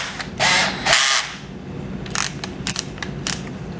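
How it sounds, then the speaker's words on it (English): Two short, loud bursts of a power drill whirring close by as it bores a 3/16-inch hole straight through a part for a three-legged stand, followed by a series of quicker, lighter bursts and clicks with no one talking. "drill it all the way through"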